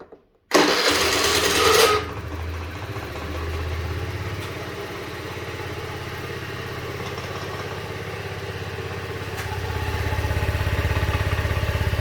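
A Honda Dio 68 scooter engine idles steadily on its own after cleaning of the fuel injector and fuel pump, a low continuous drone following a brief loud burst at the start.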